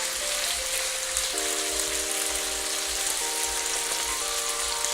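Bacon fries in a pan with a constant crackling sizzle and spitting pops throughout, with a faint tonal whine in the background.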